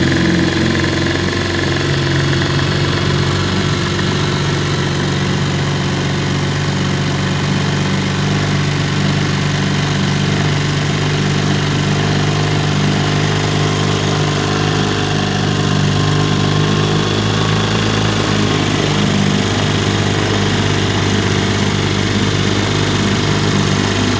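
A 1953 Elgin 5.5 hp outboard motor runs steadily and loudly close by, its even engine drone and rattling vibration holding throughout with no voices.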